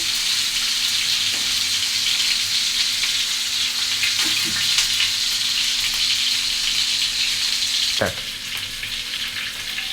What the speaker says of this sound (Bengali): শিক কাবাবের স্টিকগুলো দিয়ে দিচ্ছি আমি দুই পিস দুই পিস করে ভেজে নিচ্ছি